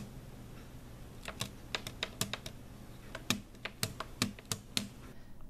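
Quiet, crisp key taps on a 1byone pocket-size Bluetooth folding keyboard with a metal aluminum build, a quick irregular run of about a dozen clicks close up.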